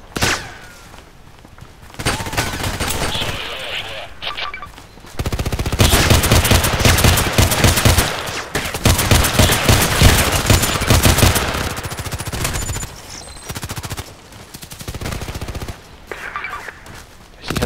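SKS carbine fired in the online shooter Contract Wars: loud bursts of gunfire come in dense clusters, with a quieter stretch between volleys and a final sharp shot at the end.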